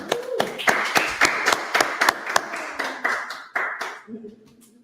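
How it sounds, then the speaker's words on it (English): A congregation at a Shabbat service gives a round of applause, a dense run of close hand claps with sharp repeated slaps over a spoken voice, fading out near the end. "Let's give him a round of applause, y'all."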